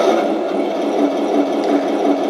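A steady, buzzing engine drone from an RC tank's stock sound system imitating a German Maybach engine, with a fast mechanical rattle, constant in level throughout, close and fairly loud; no voices.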